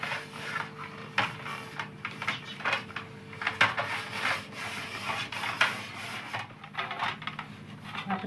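Dough for fafda being kneaded and pressed together by hand, giving soft, irregular rubbing and slapping pulses with a few sharper knocks against the bowl, close up, with no talking.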